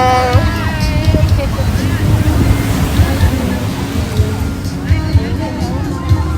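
Sea waves wash and rumble along the shore at a beach resort, a steady surf with gusty wind noise, while voices speak over it.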